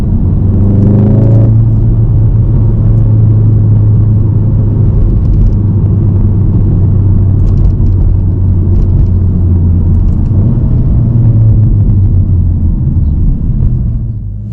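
A Volkswagen Golf R Mk7.5 engine rumbles steadily at low speed, deep and loud from inside or near the car, with slight rises in revs.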